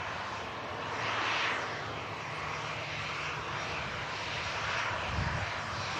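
Airbus A350 airliner engines at full thrust, a loud broad roar that swells and fades gently as the jet passes at a distance, steady throughout.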